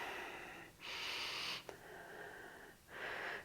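Steady breaths during a yoga flow, with two long, airy exhales each lasting about a second, plus a soft breath between them; close and fairly quiet, with no talking.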